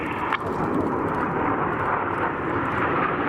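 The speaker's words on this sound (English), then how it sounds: "As the aircraft enter the second of those rolls" Red Arrows RAF aerobatic jets pass overhead at the RAF Cosford 2019 air show, giving a loud continuous roar of jet engines that fills the whole stretch without pause.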